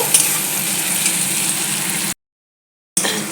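Onions fry in a pan with a loud, steady sizzle close by. It stops abruptly for almost a second and then comes back, and no one talks over it.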